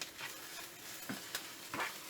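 Oyster mushrooms stir-fry with ginger, garlic, rock salt and crushed pepper in a hot pan. A close, steady sizzle carries under two or three scraping stirs of the spatula, with no voices.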